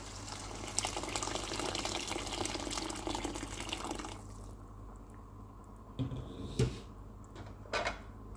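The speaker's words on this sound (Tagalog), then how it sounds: "Maglalagay na rin tayo ng tubig." Water pours from a tap or jug into a cooking pot for corn soup, a steady near stream for about four seconds that then stops, followed by a few faint splashes and clanks.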